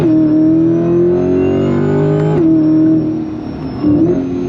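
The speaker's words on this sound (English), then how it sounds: "That supercharger is, the noise is worth the price of admission." A supercharged 2024 Corvette Stingray accelerates hard on throttle, its loud, steady engine and supercharger whine climbing in pitch, briefly dipping at a gear change, then pulling on, close and continuous with no talk.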